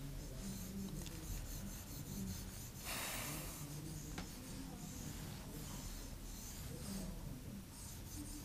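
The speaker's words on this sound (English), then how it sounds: "slightly I will rub the board here" A board rubbed clean during a classroom lesson: steady, soft scraping and rubbing strokes close by, continuous and quiet, with a brief sharper scuff partway through.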